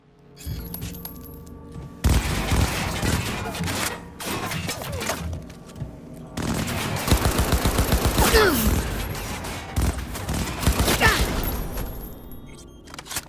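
Enemy gunfire in the video game Cyberpunk 2077, loud bursts of rapid automatic shots and sharp single cracks in dense volleys with brief pauses, close and harsh.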